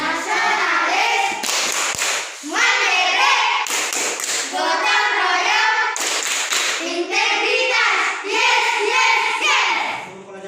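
A school class does the PPK clapping chant, loud rhythmic group claps in short bursts mixed with children's chanting voices, with brief pauses between the sections.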